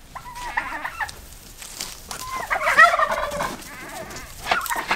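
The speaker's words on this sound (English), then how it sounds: "get these turkeys out of here" Several turkeys gobble in loud, overlapping bursts, close by, with rapid warbling calls repeating through the scene.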